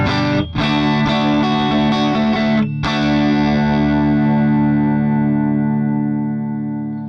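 Electric guitar played through a JHS Harvard Rock amp model on a ToneX with a 1x10 cabinet, giving loud, distorted chords that ring out, a brief cut, then one long sustained chord that slowly fades with a raspy, compressed, broken-speaker edge.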